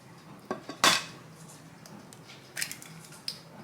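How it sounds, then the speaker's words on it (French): A spoon or whisk clinks against a mixing bowl as eggs are worked one by one into cake batter for a healthy dessert: a few sharp, separate knocks, one louder strike near the start, then quieter taps in a hushed kitchen. "je vais incorporer les œufs un par un"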